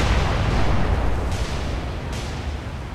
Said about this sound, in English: Nagato going broadside.